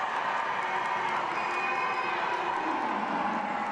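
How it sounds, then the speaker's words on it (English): Spectators at a girls' basketball game cheer and shout after a three-pointer, a steady distant roar of crowd noise filling the gym throughout. "The crowd loved that one as well."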